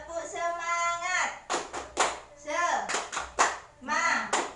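A group in an Indonesian training session performs a rhythmic clapping game, sharp bursts of hand claps alternating with chanted voices led by an adult and answered by the group.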